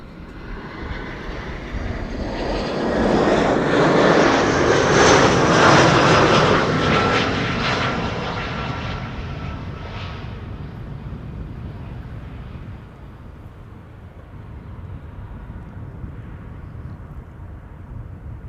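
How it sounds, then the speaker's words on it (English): EasyJet Airbus A319 arriving at Amsterdam Schiphol Airport on a sunny day, its jet roar swelling as it passes close, peaking loudly, then fading gradually into a distant whine with light wind noise. "Next coming in is EasyJet A319,"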